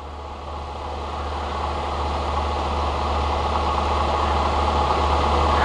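ST-260 spin rinser dryer running with a load of 4-inch cassette wafers, a steady low mechanical hum and whoosh of spinning that builds slightly in loudness, with no voices.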